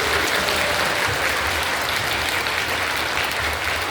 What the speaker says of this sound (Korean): 우리 아이를 축복하며 다시 한번 더 뜨겁게 박수 주십시오